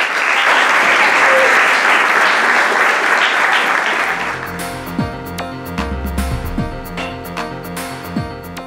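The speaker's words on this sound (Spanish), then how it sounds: "Así que de nuevo, un aplauso." Audience applause swells loud and dense for about four seconds before fading into scattered claps beneath a music-like background.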